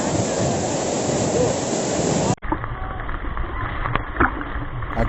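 Kudlani Doddi Falls near Bangalore, water falling with force, a loud dense rushing roar for two seconds, then an abrupt cut to a quieter watery wash with brief knocks.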